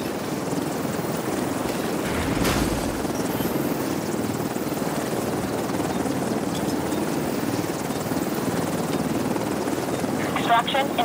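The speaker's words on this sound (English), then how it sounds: "Extraction helo, almost within range." A helicopter arrives for extraction in the video game The Division 2, its steady rotor and engine roar loud and constant throughout, with a brief crackle near the end.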